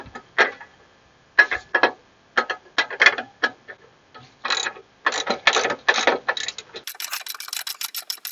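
A hand ratchet snaps in quick, uneven bursts of clicks while tightening the rear shock absorber bolts on a Chevy Trailblazer. The bursts sound close and crisp, with brief pauses between them.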